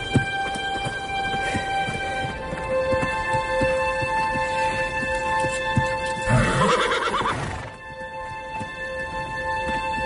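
A horse whinnies once, loud and close, over a steady humming background with faint rhythmic clopping.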